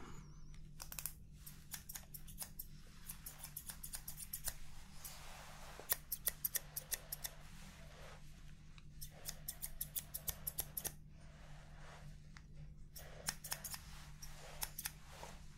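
Barber scissors cut hair in a quiet ASMR barber-shop roleplay with a hot towel shave, giving close, crisp snipping clicks in irregular clusters over a low steady hum.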